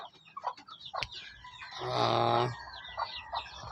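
Domestic chickens cluck nearby in short scattered bursts, with one louder, longer call in the middle, all fairly quiet with no talk.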